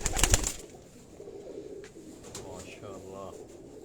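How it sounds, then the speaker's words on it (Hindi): A Teddy breed pigeon coos softly in a low, rolling burr, after a brief burst of flapping or rustling at the start, with faint voices around. "ये दोस्तों टैडी ब्रीड का ये कबूतर"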